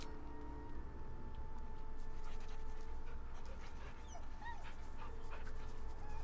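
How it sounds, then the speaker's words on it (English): A dog whimpers and pants in the video game Baldur's Gate 3, soft repeated whines and breathy pants over a low steady game ambience, close and moderately quiet, with no talking. "Good puppy."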